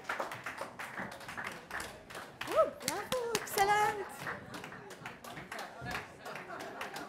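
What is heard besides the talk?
audience clapping for colleagues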